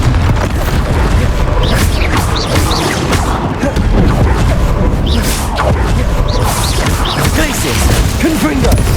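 Bombarda and Confringo explosion spells fired in the Hogwarts Legacy video game, a steady barrage of crashing booms and impacts over about nine seconds, loud and continuous, with a voice shouting among the effects.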